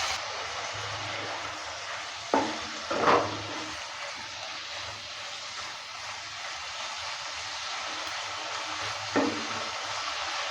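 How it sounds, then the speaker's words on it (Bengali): Prawns frying in a pan make a continuous soft hiss, broken by a few sharp scrapes and knocks as they are stirred and turned. No one speaks. "উল্টে পাল্টে ভালো করে ভেজে নিচ্ছে"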